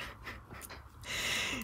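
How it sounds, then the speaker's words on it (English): Heavy, loud breathing right up against the microphone, a few ragged breaths with a strong rushing exhale near the end, no talking. "I'm breathing really loudly into the camera"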